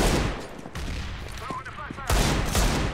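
Burst-fire gunshots in a first-person shooter video game, loud broadband bursts at the start and again near the end with a quieter gap between, a few faint tonal game sounds in the middle.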